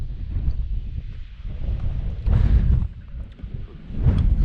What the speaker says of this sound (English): the wind is increasing